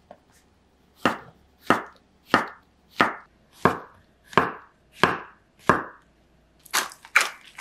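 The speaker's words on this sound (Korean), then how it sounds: "양송이 버섯은 적당히 크게 잘라주세요." Button mushrooms being cut into large pieces with a knife on a board while cooking a simple home dish: about ten crisp, evenly spaced chops, close and clear, with no talking.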